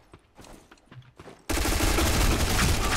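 Rapid gunfire in a one-on-one video game match erupts suddenly halfway through after a stretch of quiet scattered clicks and faint noises, then continues as a dense, loud burst of shots to the end.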